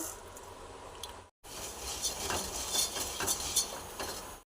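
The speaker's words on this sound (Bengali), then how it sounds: "ধনেটাকে ভেজে নেব" Coriander dry-roasts in a pan while being stirred, with a steady rustling, scraping clatter of seeds against metal. A brief silent break interrupts the sound, and no one speaks.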